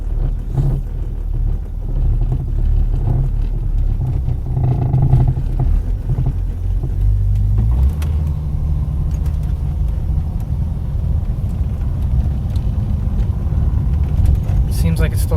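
A car drives along with a low, steady engine and road rumble throughout, shifting in tone about halfway as it changes pace, with some brief clunks and rattles from inside the cabin.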